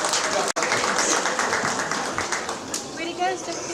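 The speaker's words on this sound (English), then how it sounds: "Let's give all those other individuals a round of applause" An audience at a small animal show applauds the exhibitors of a belted hog class, a dense, continuous wash of clapping beneath an announcer's voice over a loudspeaker.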